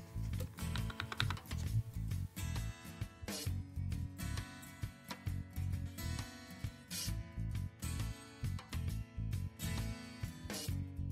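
Rapid typing on a Razer BlackWidow mechanical keyboard, dense clicky keystrokes in quick bursts with brief pauses, close and fairly quiet, no talking.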